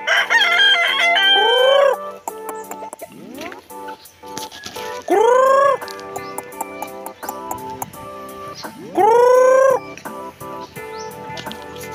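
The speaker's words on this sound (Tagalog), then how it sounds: "So ito po yung ating mga manok guys." Roosters crow three times, loud and close, over a steady background of clucking chickens.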